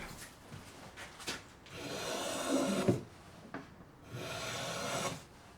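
A blade shaves a wooden guitar soundboard brace into a scalloped shape, giving long, breathy scraping strokes with short pauses and small knocks between them, close-up and quiet.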